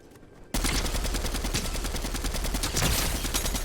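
An MK assault rifle in the Fortnite video game fires a long, rapid automatic burst that starts abruptly and continues without a break, loud and close, with no talking.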